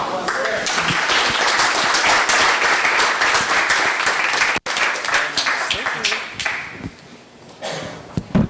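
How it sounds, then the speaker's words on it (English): A meetup crowd breaks into applause, many hands clapping together in a dense burst that fades to scattered claps and taps near the end, with voices partly heard beneath it. "Let's get a round of applause there."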